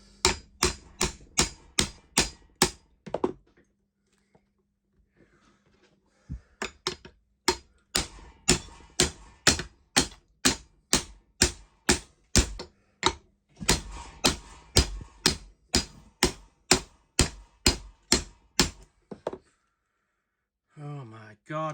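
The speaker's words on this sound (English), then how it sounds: "if I get my adjustable spanner and then put it up against that collar there and whack the fuck out of it" An adjustable spanner strikes an impact driver collar again and again to free a jammed drill bit, giving loud, sharp metallic clanks in fast, regular runs with short pauses between bursts, close up and nearly free of talk.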